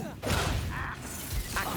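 The Depulso spell is cast in a Harry Potter wizarding video game: a short burst of whooshing, clattering magical effects with a rattling mechanical edge, brief and close.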